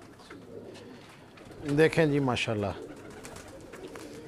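Red-eyed domestic pigeons coo in a short, close burst of throaty calls midway through, while someone talks quietly before and after.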